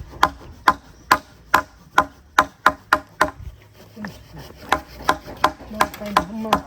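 Sharp, evenly paced hammer blows and cuts on wood ring out as a solar panel frame is built beside a goat shed, roughly fifteen close, loud strikes in quick rhythm with no voices over them.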